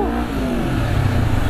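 A Honda CBR250RR sport motorcycle's engine revs up as the throttle opens, a steady loud mid-pitched drone rising in pitch, heard close with no talking.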